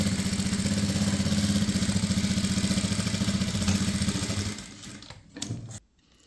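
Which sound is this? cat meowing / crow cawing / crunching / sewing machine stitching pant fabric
sewing machine stitching pant fabric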